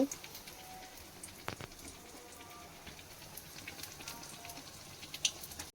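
Quiet, even crackling and sizzling of eggplant fritters frying in oil in a small wok, with scattered tiny pops and a soft clink of a utensil; no voices.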